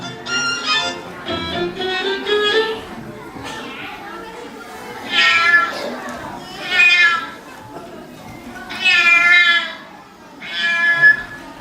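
A cat meows repeatedly in drawn-out, whiny cries, with children's voices chattering around it throughout.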